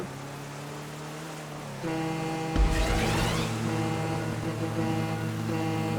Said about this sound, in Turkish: arabanın çıkardığı sese bak